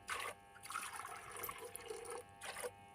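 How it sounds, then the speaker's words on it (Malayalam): Water poured from a cup into a pressure cooker holding moong dal for payasam, a close splashing pour in two short bursts with a longer steady stream between them. "വെള്ളം ഒഴിച്ച്"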